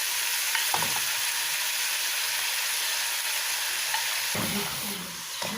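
Sliced onions, five of them, frying in olive oil in a pan as the base for a Moroccan pastilla, giving a steady close sizzle throughout with brief stirring clatter near the start and end.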